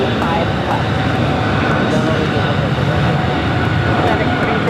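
Continuous broadband roar of a cargo Boeing 777 freighter landing at LAX, steady and loud throughout with no distinct changes, heard alone without people talking nearby.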